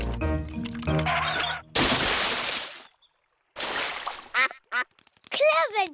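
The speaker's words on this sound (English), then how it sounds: "What was that big splash?" A cartoon pig character crashes into a duck pond with a big, loud splash that hisses on briefly, followed by ducks quacking and cartoon voices talking.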